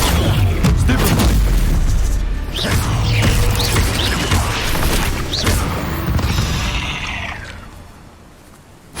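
Heavy booming impacts from a Descendo spell in Hogwarts Legacy, loud crashes and slams with creaking debris in a dense game mix, several hits across the stretch before fading near the end.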